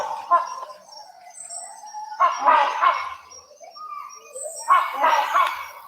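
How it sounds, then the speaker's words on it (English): A hornbill calls in the Borneo rainforest: two loud, raspy, honking bursts a couple of seconds apart, over fainter bird chirps and a soft background hum. "Like this is a hornbill."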